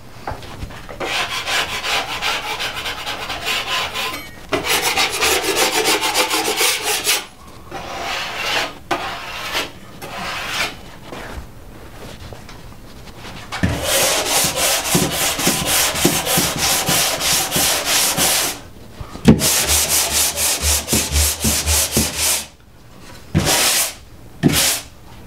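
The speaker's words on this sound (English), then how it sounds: "I'm going to use one of these guys and just start sanding this down" Hand sanding of dried drywall joint compound scrapes in bursts of rapid back-and-forth strokes, close and loud, with short pauses between passes and no talking.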